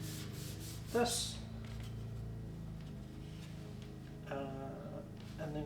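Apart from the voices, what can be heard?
sanding a rough-cut piece of wood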